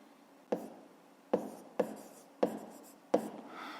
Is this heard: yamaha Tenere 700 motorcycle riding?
no